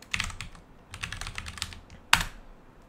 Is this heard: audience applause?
no